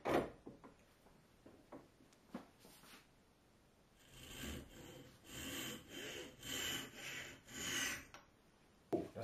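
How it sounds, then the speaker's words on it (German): A wooden arrow shaft is sawn to length. A few scattered scrapes and knocks come first, then a run of rhythmic back-and-forth sawing strokes, close but fairly quiet, ending in a sharp knock. "und sägt das Ganze einfach ab."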